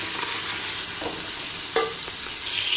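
Mutton pieces fry in a pot for a desi yakhni, a soft constant sizzle broken by a few sharp scraping stirs of a spoon against the pot, close and without speech.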